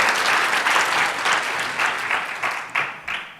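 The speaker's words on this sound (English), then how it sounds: "Please give them a round of applause." At a climate and health conference, an audience claps in warm, steady applause that thins out toward the end into a few final scattered claps.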